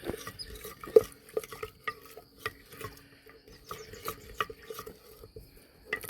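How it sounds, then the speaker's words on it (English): Flour being stirred slowly into a batter, a scraping spoon against the bowl with irregular soft knocks and clinks, close by and fairly quiet, no talking. "Stir that in slowly so you don't get great big lumps."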